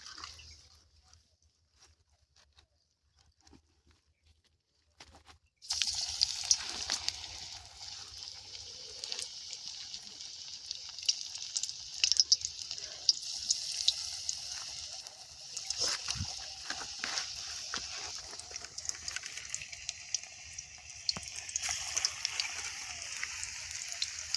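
Coriander leaf pakoras frying in hot oil in a village kitchen, a steady bubbling hiss that starts abruptly after a near-silent opening and carries on with occasional crackles and faint voices underneath.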